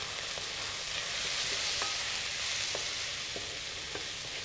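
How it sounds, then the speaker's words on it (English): Curry powder and cumin sizzle in a hot pan as they are stirred, giving a soft steady frying hiss with a few light taps of the spoon, fairly quiet throughout. "I'll take the curry powder and the cumin. And I'll give it a nice stir again."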